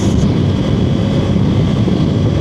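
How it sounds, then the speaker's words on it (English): An airplane flying overhead: a loud, steady, low roar fills the whole stretch without any break or change. "There's an airplane."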